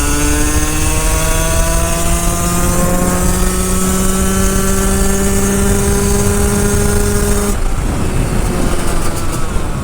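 A 2-stroke 125cc motorcycle engine screams at sustained high revs during a top-speed run, loud and steady with heavy wind roar, the tone cutting off sharply near the end.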